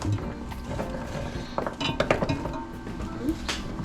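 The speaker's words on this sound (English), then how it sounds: "let's throw the celery in, and the carrots" Chopped celery and carrots tumble into a metal pressure cooker pot for keto soup, giving a cluster of light clinks and clatters in the middle, with quieter kitchen handling around it and no talking.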